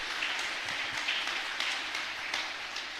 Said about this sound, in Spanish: Fuerte aplauso para todos nosotros.